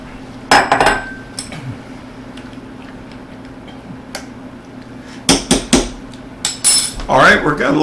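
Dry pasta tipped into a pot of water with olive oil, giving a few sharp clinks and rattling clatters against the metal, two busy bursts separated by a quiet stretch with a steady low hum underneath.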